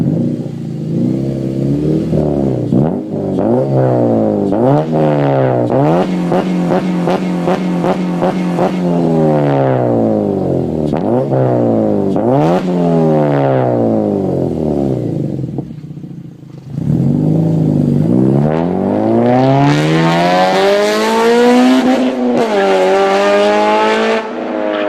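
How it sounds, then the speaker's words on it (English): A Honda Civic with a Skunk2 catback exhaust revs repeatedly, its loud, close engine note climbing and falling in rising sweeps, with a brief dip before a final long, aggressive pull to high revs. "The fifth exhaust is a Skunk 2."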